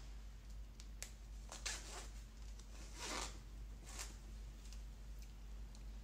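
The zipper of a zip-in wig track is pulled down in a few short, quiet rasping bursts, with soft handling rustles in between against a low steady hum.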